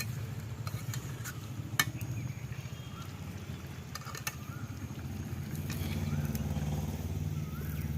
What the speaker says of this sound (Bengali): বন্ধুরা এবার আমি উপরে ঘি দিয়ে লাভিয়ে নিলাম